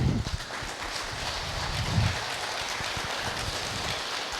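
An audience at a Guru Purnima celebration gathering claps in a broad, steady, rain-like patter of many hands. It begins with a stronger burst, then continues evenly at moderate loudness without talking.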